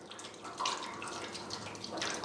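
Motor oil pours through the grate of an electric oil drain cart, a steady, close, liquid trickle and splatter that sounds like running water and carries on throughout with no voices.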